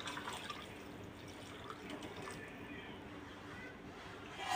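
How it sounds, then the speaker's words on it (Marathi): Hot water is poured into a pan of chicken cooking on a gas stove, a soft continuous splashing and trickling close by at low volume, with faint dripping at the start. "चिकन शिजताना गरम पाणी टाकायचं आहे"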